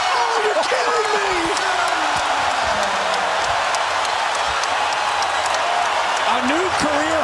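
Basketball arena crowd roaring and cheering for Klay Thompson during a big scoring run, a dense, steady wash of cheers and whoops that holds loud for the whole stretch, with a commentator talking over it.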